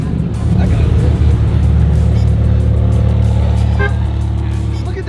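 A McLaren sports car roars past nearby with a loud, low engine rumble that swells and holds for several seconds, while people talk over it.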